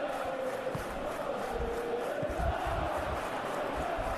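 A roaring Wembley Stadium crowd in the PES 21 football game, during an FA Cup semi-final between Chelsea and Leeds United, forming a dense, continuous wall of cheering and chanting that swells throughout.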